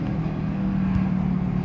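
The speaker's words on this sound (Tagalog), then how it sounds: "may dumaan kotse" A car drives past outdoors, a steady low engine rumble with tonal hum holding throughout, moderately loud with no talk over it.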